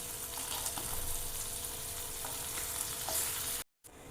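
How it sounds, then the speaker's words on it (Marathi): Mandeli fish shallow-frying crisp in a pan, a steady close hiss of hot oil with faint clinks, running alone before a brief cut to silence near the end. "हे आपला हे दोन्ही साईडने फ्राय करून झालेले आहे, मस्त असे क्रिस्पी झालेले आहेत।"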